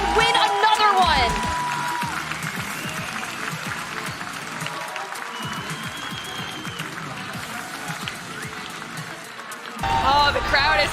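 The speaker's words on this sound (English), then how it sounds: "Oh, the crowd is happy about that one" At an Apex Legends esports tournament, the ALGS playoffs, a live crowd applauds and cheers after a fight, the swell loudest at the start and end, with a commentator talking over it.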